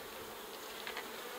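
Honeybees buzzing at an open beehive with brood frames, a steady faint hum with a few brief closer wingbeats passing near.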